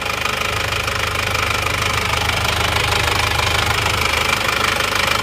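An Isuzu Panther diesel engine with heavy blow-by runs at idle, a loud, close, rough knocking clatter with constant rhythmic pulsing and a hissy breathy wash over it, steady throughout with no talking.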